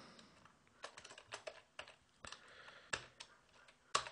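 Typing on a computer keyboard, quiet close-up bursts of key clicks in an irregular rhythm with a few louder strikes, no talking.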